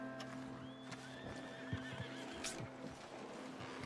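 Agitated horses in the video game Red Dead Redemption 2 whinny and neigh over shuffling hoof clops, fairly close and continuous against a low ambient hum.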